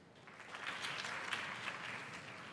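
A crowd answers a question by clapping, a faint, distant patter of many hands that swells slightly and holds steady, heard quietly in a hall.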